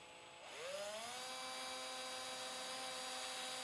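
A drill bores a screw hole on a custom guitar body for the truss rod cover, a steady high-pitched whine that spins up and then holds for several seconds, alone and fairly quiet.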